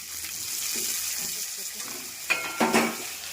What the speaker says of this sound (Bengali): মটরশুঁটি টমেটো ভাজা ভাজা হয়ে গেছে।